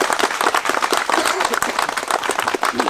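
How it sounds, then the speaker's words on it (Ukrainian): Applause for soldiers at an outdoor ceremony opening an inclusive sports ground, with dense, loud, continuous hand clapping from a crowd and some voices mixed in. "давайте не, не жаліємо оплесків для наших військовослужбовців"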